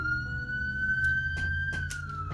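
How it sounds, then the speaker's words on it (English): An ambulance siren sounds from the street outside a home, a sustained wailing tone that holds steady, then slowly bends down in pitch as it passes, with a few brief noises underneath. "if the ambulance will go by."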